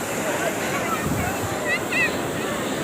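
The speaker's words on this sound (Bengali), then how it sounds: "আর একটা বড় ঢেউ আসছে দেখুন" Big ocean waves roll and crash on a beach in a continuous close roar with wind buffeting the microphone, and a voice speaks over the surf.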